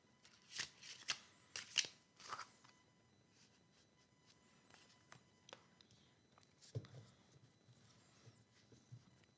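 A deck of oracle cards being shuffled by hand, producing a few quick riffling and flapping bursts early on followed by softer scattered taps and shuffles, close but quiet.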